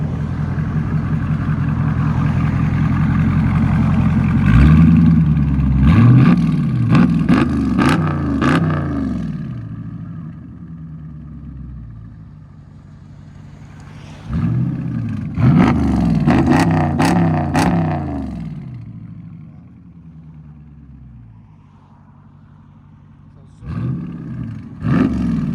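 Dodge Charger with a 6.4L V8 and modified exhaust is revved repeatedly in loud, deep bursts with crackling pops, separated by a rumbling idle; several rev sequences recur, loud and close.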